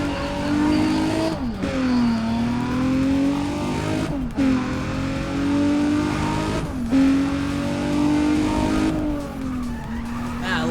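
A Nissan Z sports car engine in a racing video game revs high and drops repeatedly through gear changes, a loud sustained whine rising and falling in several sweeping waves, with occasional tire squeal.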